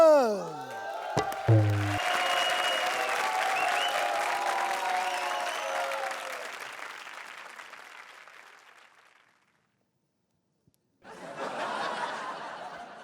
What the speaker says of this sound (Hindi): जोरदार तालियों के साथ स्वागत कीजिए